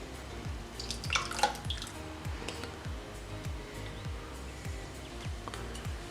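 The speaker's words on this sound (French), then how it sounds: "on va mettre les 6 blancs d'œufs dans le robot" Six egg whites poured into a Thermomix bowl, a faint, close run of soft wet drips and glugs arriving in an irregular rhythm with no talk.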